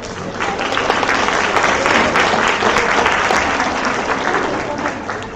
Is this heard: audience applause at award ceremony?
yes